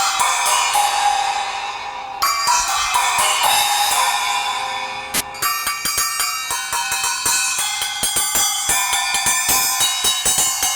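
Ufip splash cymbals struck one after another, each hit ringing bright and bell-like with a long shimmering sustain, loud and close, with a brief gap before fresh strikes resume.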